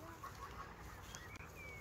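Chickens in a garden give soft, faint clucks, a few brief calls over a quiet background.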